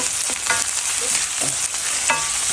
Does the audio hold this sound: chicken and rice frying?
yes